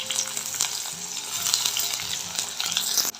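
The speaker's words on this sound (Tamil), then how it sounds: "ஒரு 2 டேபிள் ஸ்பூன் ஆயில் விட்டு பட்டை, கிராம்பு போட்டு தாளிச்சிட்டு வெங்காயம் சேர்த்துக்கோங்க" Oil sizzles and crackles steadily as onions fry with cinnamon and cloves, with occasional stirring scrapes and pops close by.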